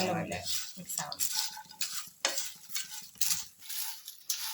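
Papadam thoran stirred gently in a pan, spoon scraping and clinking against the metal in repeated strokes over a faint sizzle, close by, with no talking.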